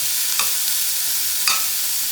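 Red onions and minced garlic sautéing in olive oil with a bright steady hiss, punctuated by two short scrapes of a utensil against the pan, close and without talk.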